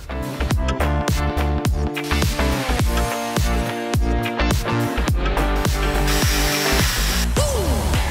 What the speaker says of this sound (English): We are going to cut and weld up a quick couple of adapters